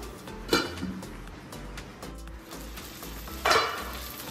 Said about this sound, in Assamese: মাংসখিনি মোৰ ভাজি থকা প্ৰায় 20 মিনিট মানেই হ'ল একদম মিডিয়াম ফ্লেমত ভাজি আছো